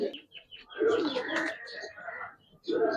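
Pigeons, Giribaz coloring birds, coo in a few low throaty bursts at close range, with brief chirping calls mixed in.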